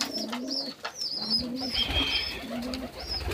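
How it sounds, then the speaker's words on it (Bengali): Fotik's pigeons coo in soft, repeated low calls, several birds close by with a few faint chirps mixed in, over a quiet room background. "পায়রা রয়েছে"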